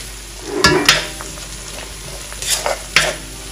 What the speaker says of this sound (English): Frying it in this oil is very important because it's going to infuse a nice taste aroma to your